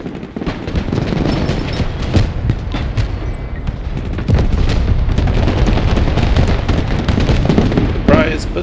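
Deep booming blasts from a Tungsten Rod strike in the game Broken Arrow, a heavy rumbling explosion with crackling debris that swells louder midway and keeps roaring to the end, with voices talking over it.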